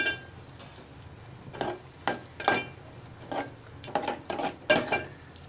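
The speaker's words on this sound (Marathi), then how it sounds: "मिश्रण छान एकजू करून घेत आहे" Spoon scraping and clinking against a pan while a samosa filling of peas with lemon, jaggery and salt is mixed, a series of irregular metallic knocks and scrapes close by with no talking.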